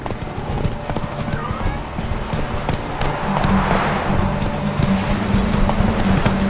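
Roach, Geralt's horse in The Witcher 3, gallops with a steady, rapid clip-clop of hooves, close and loud, with a brief whinny and some breathy movement layered over the rhythm.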